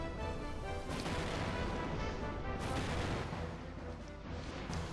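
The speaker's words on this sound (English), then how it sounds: "And we're being bombarded." Continuous bombardment explosions in the video game Xenogears, a dense, loud rumbling barrage of booms with sharper bursts near the start and middle, sustained without pause throughout.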